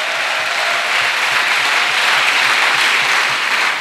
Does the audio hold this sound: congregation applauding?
yes